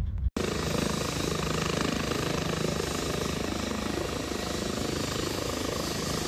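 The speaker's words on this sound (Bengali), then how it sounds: "এই যে একটু পরে হেলিকপ্টার এসে ল্যান্ড করবে" Loud, continuous rotor roar of a helicopter landing on a ship close by, a dense thudding drone that stays steady throughout after a brief cut at the start.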